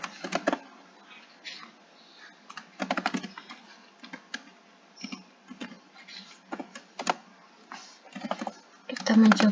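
Keys clatter on a computer keyboard while entering commands in Maple, in irregular bursts of quick clicks separated by short pauses, close and clear.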